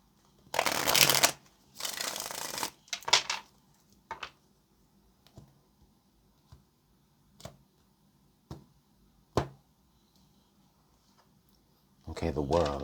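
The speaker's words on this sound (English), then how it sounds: "All right, let's get this last shuffle." Tarot cards are shuffled in several rustling bursts near the mic, with scattered soft taps of cards being laid down between them and a final burst of shuffling at the end.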